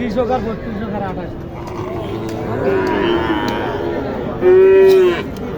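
A Sahiwal bull and other cattle at Mataji cattle market in Naogaon moo loudly and close by, one long low call swelling in the middle and a stronger one near the end, over a steady bed of crowd voices and market noise.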